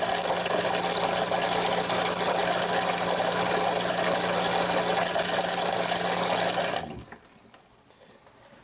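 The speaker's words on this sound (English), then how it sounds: "I'm flushing the toilet." Toilet flushing during cleaning, a loud continuous rushing of water for about seven seconds that cuts off abruptly, leaving a faint quiet trickle.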